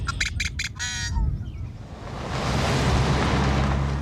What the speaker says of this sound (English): you can hear quite a few birds